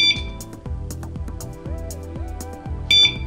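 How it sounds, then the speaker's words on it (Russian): A very loud, cheap Chinese-made security alarm siren blares continuously with shifting, warbling tones and shrill high beeps cutting in near the start and end. "Вот таким вот образом очень громкая сигнализация"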